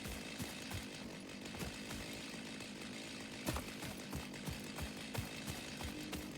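A chainsaw in the video game Satisfactory runs steadily throughout, a continuous buzzing engine drone with repeated sharp cutting bursts, fairly close and alone with no talking.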